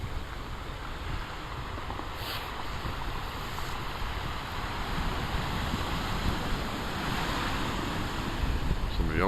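Waves surge and wash along the shore of Narragansett Bay at the URI Bay Campus on a foggy, blustery day, a steady broadband roar of surf mixed with wind buffeting the microphone, building slightly toward the end, with no one talking.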